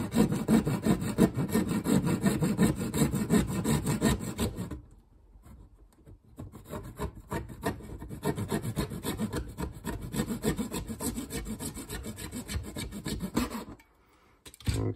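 A small saw works back and forth through part of a Primaris Terminator miniature, a steady rasping stroke that stops briefly partway, then resumes and stops again near the end.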